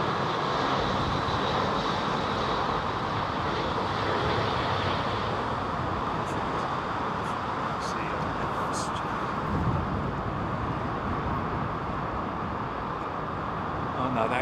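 A Boeing 777 twinjet comes in to land at London Heathrow, its engines a loud, continuous broadband roar that holds steady throughout with no speech over it.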